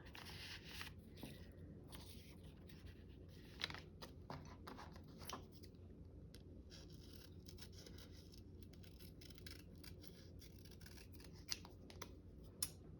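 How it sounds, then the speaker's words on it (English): Scissors snip through fabric in short, crisp, irregular cuts, close and quiet, with small pauses and rustling between snips and no talking. "I will fussy cut the rest of this out"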